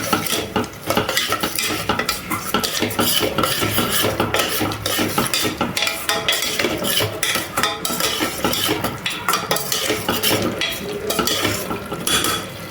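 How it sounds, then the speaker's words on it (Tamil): A spoon scrapes and clinks continuously around a pot, stirring thick prawn biryani masala with yogurt that sizzles softly underneath, close and busy throughout. "நல்லா ஒட்டுக்கா கிளறி விடணும்"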